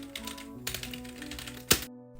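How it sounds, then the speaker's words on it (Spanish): Bursts of keyboard typing used as a sound effect in a narrated horror story, quick clustered key clicks in three short runs ending with a sharper final keystroke, with no speech over it. "Empezó, escribiendo algo en el teclado que tenía debajo."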